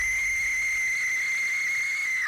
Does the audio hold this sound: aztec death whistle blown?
yes